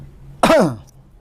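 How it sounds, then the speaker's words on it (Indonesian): A single, harsh throat clearing close to the ear, a short rasping burst that fades quickly against quiet background hum. "Batuk dulu sahabat ya."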